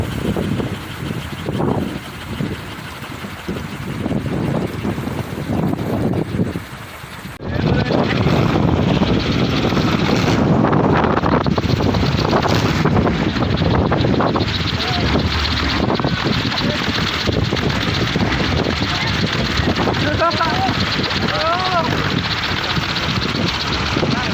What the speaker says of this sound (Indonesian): Ini dikarenakan angin yang meniup kolecer sangat kencang, hingga bambu pun melenting